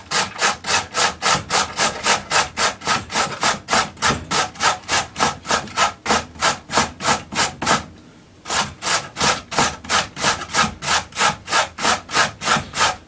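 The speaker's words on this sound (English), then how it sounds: "Next, carrot. Plain old grater. Take the nasty nibble off the end. And just grate away." A carrot grated on a plain kitchen grater for homemade coleslaw, steady rhythmic rasping strokes repeated about two per second, close and loud, with one brief pause near the end before the strokes resume.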